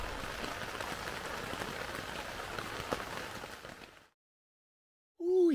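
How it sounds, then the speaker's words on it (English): Heavy rain drums steadily on a tent while camping, a dense close patter that fills the space for about four seconds before cutting off to silence, followed by a brief voice. "it's raining harder and I've given up"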